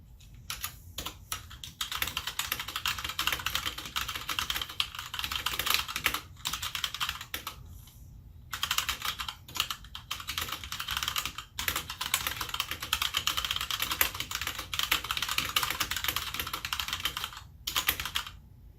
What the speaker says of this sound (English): I'm going to do a little bit of typing on this one,